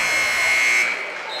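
A loud, sustained end-of-quarter buzzer sounds at a high school boys basketball game, holding steady for almost a second before cutting off into gym crowd noise.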